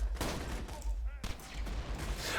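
Borderlands gunfire and booming explosions crackle through a busy, dense mix, with shots overlapping in quick succession.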